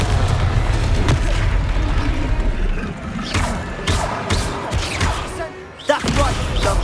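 In Hogwarts Legacy, Confringo blasting spells set off a series of deep booms and crashing impacts in a noisy fight, with several sharp blasts and a heavy hit near the end over continuous combat noise.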